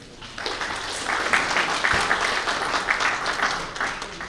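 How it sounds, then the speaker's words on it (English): An audience at a technical session applauds as the next speaker, an emeritus professor, is welcomed, a steady patter of many hands clapping at moderate distance for a few seconds. "Please give him a round of applause."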